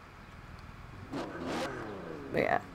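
A rear-wheel-drive BMW 850CSI in the racing game Forza Horizon 4 gives a couple of short engine revs, rising to a sharper burst near the end.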